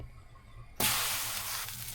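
Water droplets on a hot stainless steel pan, a quiet low hum that gives way to a sudden steady broadband hiss and sizzle, continuous and close.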